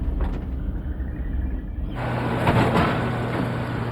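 A truck engine speeds up after downshifting. A low rumble swells and grows louder about halfway through, then holds as a throaty drone, with no one talking.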